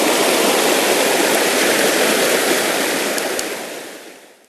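The freestone Westfield River runs in high flow, a loud, steady broadband rush of water that stays constant, then fades out at the end.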